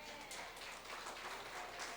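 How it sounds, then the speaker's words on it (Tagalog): Church congregation applauding during a Sunday service, a steady, fairly faint patter of many hands clapping at once for a couple of seconds. "Palakpakan natin ang Diyos."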